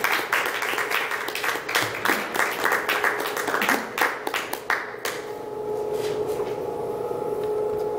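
An audience at an evening public relations talk breaks into lively applause that sustains for about five seconds, then quickly dies away into quiet room tone.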